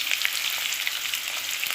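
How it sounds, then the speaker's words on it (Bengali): Cut potatoes fry in hot oil with salt and turmeric, giving a steady, close, crackling sizzle with small pops and no talking. "এবারে আমি দিয়ে দেবো কেটে রাখা আলুগুলো, ভেজে নেবো।"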